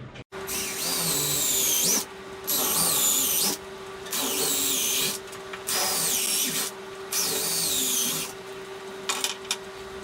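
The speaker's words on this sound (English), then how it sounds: "I should be able to get it drilled in." Power drill driving screws into a wooden Hoosier-style upper cabinet, a loud whining motor in about five sustained bursts with short pauses between them, close by and alone.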